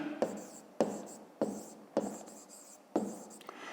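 Pen writing by hand on paper while working a grade 5 math exercise, five distinct scratchy strokes in a steady rhythm, close and fairly quiet.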